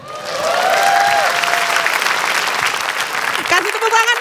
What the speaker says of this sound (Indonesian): Kasih tepuk tangan dong untuk Ridwan Emin.